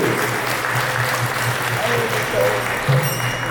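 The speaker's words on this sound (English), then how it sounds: "let's give a round of applause to welcome Bhadra Krishna Prabhu" Sustained applause from a temple congregation at a Rama Navami gathering, a dense, even roar of many hands clapping throughout, with a low steady hum underneath and faint voices.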